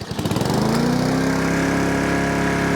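A Husqvarna R152SVH lawn mower with a Honda engine starts without choke: a few rapid pulling coughs catch into a loud, steady, close engine run that keeps going alone.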